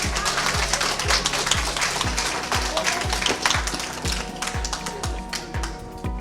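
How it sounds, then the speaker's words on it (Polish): Applause for a Mother's Day makeover participant fills the room, dense clapping running over a steady, thumping beat that pulses about twice a second, loud and continuous throughout. "Jeszcze raz wielkie brawa dla niej."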